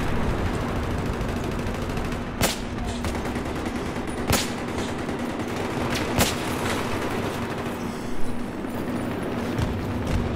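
Rapid video game gunfire rattles in steady bursts, punctuated by several louder, sharper shots spaced a couple of seconds apart over continuous background din, with no talking.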